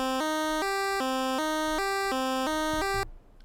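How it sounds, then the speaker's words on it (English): Default square-channel instrument in the FamiStudio chiptune tracker plays eight quick, buzzy 8-bit notes in a stepping up-and-down pattern, loud and alone, then stops abruptly. "If I'm in the square channel when I try to use it in the piano roll,"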